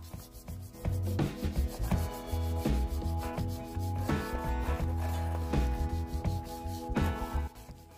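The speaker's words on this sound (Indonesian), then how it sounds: "kita amplas dengan ukuran 180 hingga yang menonjol itu sedikit" Sandpaper of 180 grit rubbing steadily over a motorcycle body panel with thick old paint, a continuous close scratchy sanding with rhythmic strokes and no talk.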